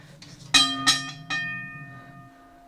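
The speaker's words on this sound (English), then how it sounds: "model 15A, also known as a teardrop bell" A model 15A teardrop locomotive bell, a heavy bell that came off the NWP railroad in Eureka, is struck three times in quick succession, each clang ringing out clear and close before a long shimmering decay into quiet.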